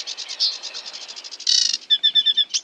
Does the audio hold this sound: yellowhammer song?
yes